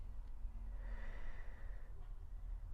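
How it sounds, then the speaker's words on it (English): A person breathes deeply in and out during a seated stretching exercise, with a slow, audible breath that rises and fades, close to the microphone. "As you breathe out, open up that rib cage. Breathing in and out."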